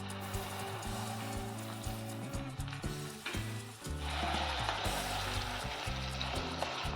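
Peanut and green chili paste sautéing in a home kitchen pan gives a steady, close sizzling hiss that runs throughout, partly under prominent background music.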